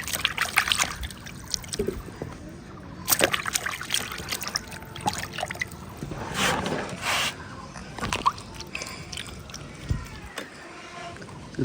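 Raw jackfruit being washed by hand under water, with close splashing and trickling water in irregular bursts throughout, sticky sap being rinsed off, and occasional faint voices in the background.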